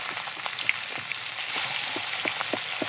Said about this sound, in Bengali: মাছটাকে এবার দিয়ে দেব তেলে।